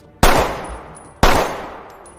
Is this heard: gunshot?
yes